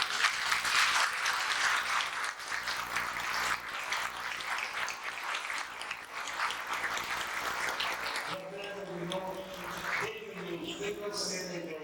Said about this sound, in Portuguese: uma salva de palmas para os irmãos, após eu pronunciar os seus nomes